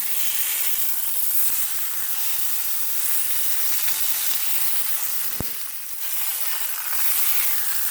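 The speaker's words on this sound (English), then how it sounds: "then I'll go around the block with it to sear the other side" Meat searing in a pan on a stovetop for a Sunday roast, a loud, continuous close-up sizzle and hiss with one brief sharp clack partway through.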